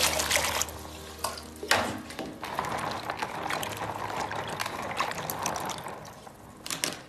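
Kumquats being washed in water, with sloshing, splashing and trickling sounds plus a few clattering handling noises, close and fairly quiet, with no talk.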